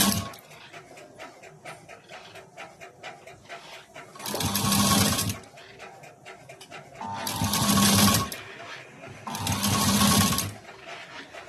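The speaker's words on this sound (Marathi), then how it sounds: "आता हे शिवत यायचं." A sewing machine stitches a fabric sleeve in three close, loud bursts of rapid mechanical whirring, separated by short pauses with quiet background sound.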